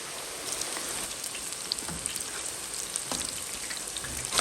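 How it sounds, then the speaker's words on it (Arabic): Eggplant fries in a pan with oil, a steady crackling sizzle full of fine pops, close and continuous with no voices. "بمقلاية دغري على جنب بلشت بقلي الباذنجان"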